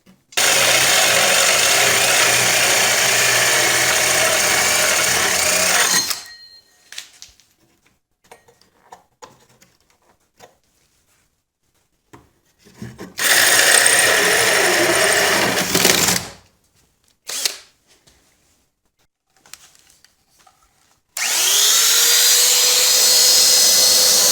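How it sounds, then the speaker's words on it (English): Power drill with a hole saw boring a hole through reclaimed wood while building a smokehouse: three loud, close, sustained grinding bursts, separated by quiet gaps filled with faint handling knocks. "But we're going to get that hole drilled out."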